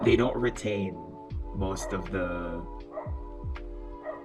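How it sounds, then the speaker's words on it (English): A neighbour's dog barks repeatedly in the background, several short barks spread across a few seconds, under a voice talking close to the microphone. "I'm sorry, there's a dog. That's the neighbor's dog."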